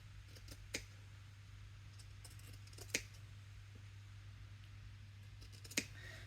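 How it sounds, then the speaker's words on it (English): Sharp scissors snip through fabric to cut out an L shape for a Loki costume, giving three separate crisp cuts spaced a few seconds apart over a steady low hum. "using a good sharp pair of scissors, you're going to go into your fabric"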